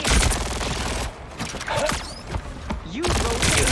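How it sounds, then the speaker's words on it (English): Rapid mechanical turret fire from the Punisher in the Marvel Rivals hero shooter, a dense stuttering burst that fills the first second and returns near the end, with clanking mechanisms and game effects in between. "Punisher's got some sort of nasty turret."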